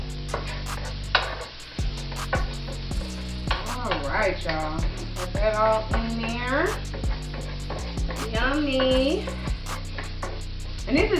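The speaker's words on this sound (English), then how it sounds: "let that simmer for a little bit" Shrimp fried rice sizzles and simmers in a pan, a low, continuous frying hiss with occasional stirring clatter. Prominent background music plays throughout.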